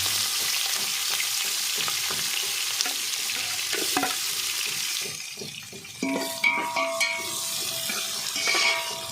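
Sliced onions and green chillies fry in hot oil with whole spices while a spoon stirs them around the pan, a steady close sizzle with scraping strokes, easing into lighter crackles and clinks near the end.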